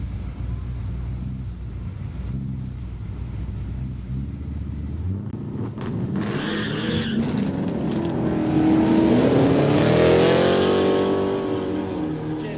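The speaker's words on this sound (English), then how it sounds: "2 ladies with smiles through their helmets, fanging the Mustang here at Horsepower Valley on a Saturday." A Ford Mustang is driven hard at Horsepower Valley's quick street drag day in Kooralbyn Valley, its engine rumbling low before climbing into a loud, rising rev with tyre noise as it launches and pulls away, close and continuous.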